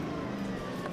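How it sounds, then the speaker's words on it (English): Drift car engine droning nearby at the Drift Wars event at Manfeild, a sustained low rumble with a steady tonal hum, moderately loud and unbroken for about a second, with no one talking. "the car right behind me making all that noise"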